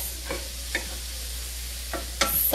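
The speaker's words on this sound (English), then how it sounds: "my vegetables are sauteed until tender" Vegetables sauté in a pan for a seafood and chicken paella, giving a steady low sizzle broken by a few soft stirring scrapes, with no talking.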